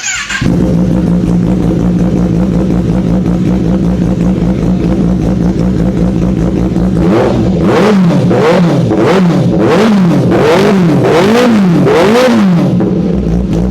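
A powerful superbike engine with an SC Project aftermarket exhaust idles loudly, then revs repeatedly in sharp rising and falling bursts with a harsh, throaty exhaust, close and continuous.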